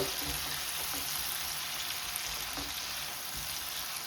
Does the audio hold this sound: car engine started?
no